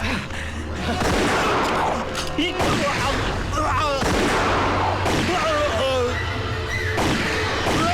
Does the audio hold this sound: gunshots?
yes